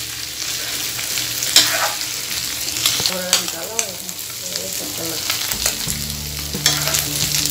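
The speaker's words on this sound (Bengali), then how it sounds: "আমি ভুড়িটাকে ভালো করে নেড়ে চেড়ে ভাজা ভাজা করে নেব যাতে করে আরও ভালো একটা কালার আসে" Beef tripe being stirred and fried to a dark colour in a pan: a loud continuous sizzle, broken by repeated scrapes and knocks of the stirring utensil.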